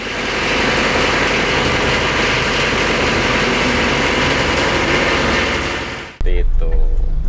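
A Mitsubishi L300 van engine with stock exhaust idles close by, a steady, loud, constant rumbling drone for several seconds, then cuts off abruptly as a voice speaks.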